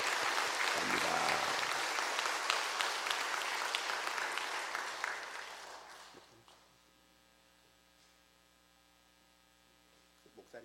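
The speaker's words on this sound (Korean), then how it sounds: "다시 한번 우리 모든 분들을 위해서 수고한 분들을 위해서 박수 한번 하겠습니다" Church congregation applauding during an evening revival service, a loud, dense round of clapping that tapers off after about six seconds into quiet room hum.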